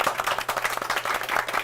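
A studio audience claps for the MCs at the close of a Korean startup talk show, a short burst of scattered, uneven hand claps with a steady low hum running underneath.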